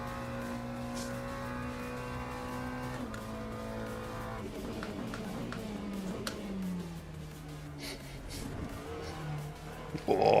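A race car engine in the Le Mans Ultimate sim drones with steady harmonics and then shifts its pitch downward as the car brakes and changes gear, ending with a sharp burst.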